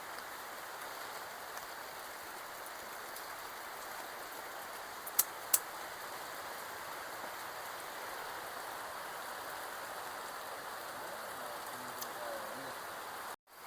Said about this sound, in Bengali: আওয়াজ শুনেও বুঝতে পারবেন প্রচুর বৃষ্টি হচ্ছে